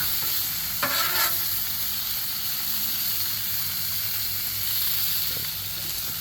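Pork chops sear in a hot pan with a steady, even sizzle that holds throughout, a soft clink near the start and no talk.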